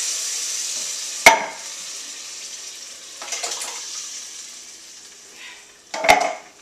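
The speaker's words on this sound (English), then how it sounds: "now that our onions and garlic are a little soft, we're going to add 2 28-ounce cans of crushed tomatoes" Two large cans of crushed tomatoes poured into a pot of softened sautéed onion and garlic, giving soft sizzling and wet sloshing with a couple of sharp metallic clanks, moderately close and without talk.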